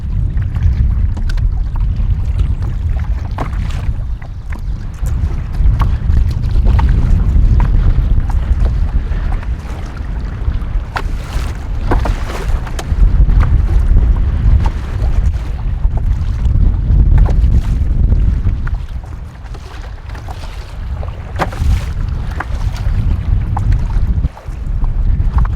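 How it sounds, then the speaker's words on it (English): Strong headwind battering the microphone while paddling a canoe on a wilderness lake in spring, heavy low rumbling gusts with some water slaps, continuous and loud throughout. "It is quite windy now. Going straight into a strong headwind."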